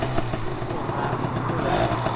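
A stock Honda Elite SB50 scooter pulls away from a stop, its small two-stroke engine buzzing loud and close as it revs up steadily.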